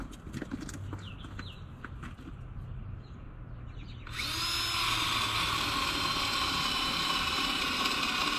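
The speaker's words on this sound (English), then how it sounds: "Just got a drill in the 1-inch spade bit there." Faint clicking at first, then an electric drill with a 1-inch spade bit starts boring into wood and runs continuously with a loud, steady grinding whine.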